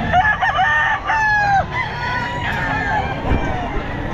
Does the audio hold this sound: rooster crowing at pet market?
yes